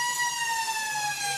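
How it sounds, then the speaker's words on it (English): A long, steady siren tone sounds at a country Australian rules football league match, holding one loud pitch without a break and nearly alone. "we have the siren and the umpire holds the ball up"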